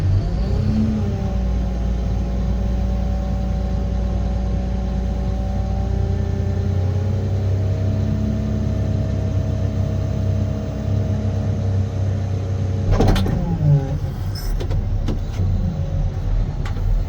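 A Caterpillar 725C haul truck climbs a hill, its diesel engine a loud, steady low rumble that slowly shifts pitch as it labours. A brief clatter comes near the end, and no one speaks.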